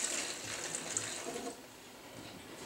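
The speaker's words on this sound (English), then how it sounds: "Now add half a cup to each container. You're going to pour until it says half." Water poured into a container, a steady soft splashing and trickling stream that runs throughout, fairly faint, with no talk over it.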